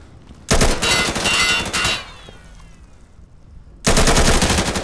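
Automatic gunfire in Insurgency (Source, 2014): two loud, rapid bursts of close shots, separated by a quieter gap with fading echoes.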